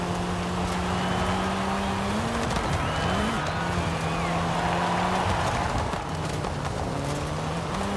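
An Audi S1 drives in Forza Horizon 5, its engine droning steadily with pitch that climbs and drops through several gear shifts over a constant road roar.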